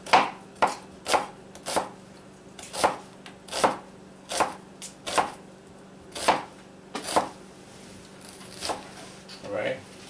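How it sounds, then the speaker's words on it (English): Onions cut with a knife on a board, a steady series of sharp, close chopping thuds at a regular rhythm, roughly two per second, over faint background hum. "here we're just going to cut the onions."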